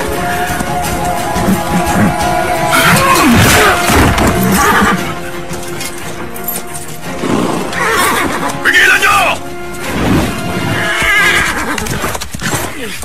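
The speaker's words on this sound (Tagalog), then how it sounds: "Ang mga kabayo!" Horses neighing and whinnying in a Tagalog-dubbed movie, several loud, close calls repeating across the scene with hoofbeats and shouting voices mixed in.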